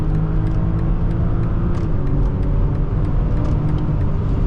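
2021 BMW X5 xDrive40i, 335 horsepower, pulling hard from a launch control start, with a steady loud low rumble of engine and road noise running throughout, close and continuous.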